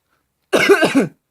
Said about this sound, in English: There's another cough.